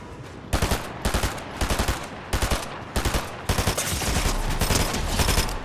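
Loud, close automatic gunfire rattles out in repeated short bursts during a Fortnite fight, with the bursts growing denser into near-continuous fire toward the end.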